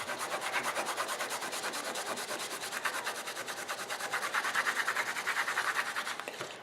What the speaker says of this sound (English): I'm just going to kind of wipe it off the embossing powder